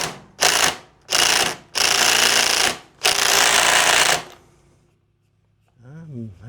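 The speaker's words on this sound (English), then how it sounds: "I'm gonna try to hold this and use the impact driver to break it loose." An impact driver hammers at a frozen 3/4 inch nut on a riding mower. It fires in four loud, rapid rattling bursts of different lengths with short pauses between them, then goes quiet, and a voice starts at the end.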